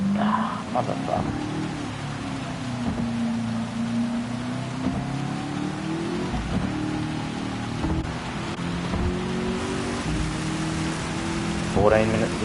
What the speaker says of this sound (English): Looks like we're getting a heavy patch of rain now, very heavy patch.